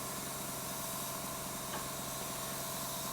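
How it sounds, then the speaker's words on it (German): An airbrush sprays paint onto the edge of a practice sheet, giving a steady, close, continuous hiss that runs unbroken throughout with no voices. "wenn du jetzt hier oben die Farbe reinsprühst, dann sprüh nicht in dein Motiv, sondern sprüh einfach nur auf die Kante"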